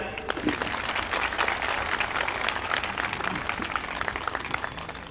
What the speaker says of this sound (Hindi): एक बार ताली बजा लीजिए।